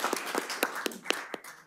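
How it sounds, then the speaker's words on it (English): A handful of sparse, evenly spaced claps ring out at a city council candidates forum, a thin scattering of hands rather than full applause, moderately near with faint room murmur behind. "Give him a round of applause."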